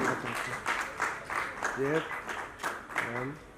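An audience at an award ceremony in Jaipur, held by a charitable trust, claps in steady waves while a voice talks over the applause.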